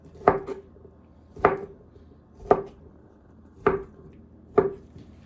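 Knife chopping ham into small cubes on a cutting board: five sharp, evenly spaced chops about a second apart, close and clear with no talking.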